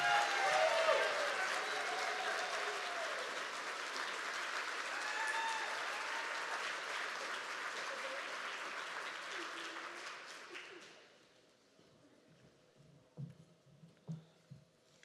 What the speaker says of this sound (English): Let's give her a round of applause for her tremendous effort and her continued dedication to APOR